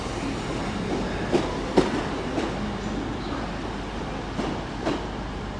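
A double South Western Railway train at Exeter St Davids station, a low steady rumble with a few soft clicks and knocks of wheels over joints, heard from the platform at a moderate distance.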